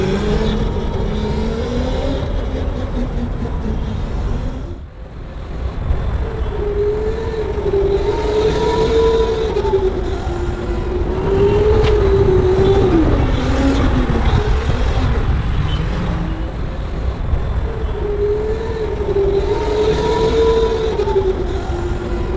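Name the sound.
go-kart driving on an indoor track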